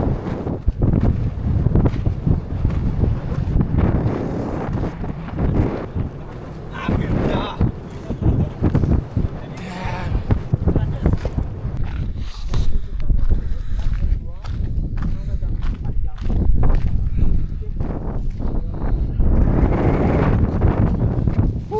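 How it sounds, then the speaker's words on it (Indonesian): Strong, steady wind roars and buffets the microphone on the exposed summit trail of Mount Agung in Bali, loud and continuous throughout, with a person speaking intermittently underneath. "Anginnya keras"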